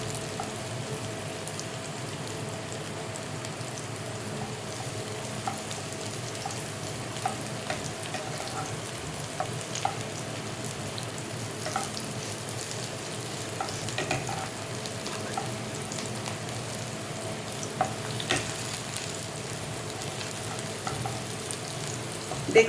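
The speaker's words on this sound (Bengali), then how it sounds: "গ্যাসের ফ্লেমটা ভাজার সময় একটু মিডিয়ামে রাখলেই ভালো, নাহলে পেঁয়াজ রসুন কাঁচা লঙ্কা সব বেশি ভাজা ভাজা হয়ে যাবে" Onion, garlic and green chilli frying over a medium flame in a pan for chilli chicken, giving a long, even, moderately quiet sizzle with scattered soft crackles and occasional stirring clicks.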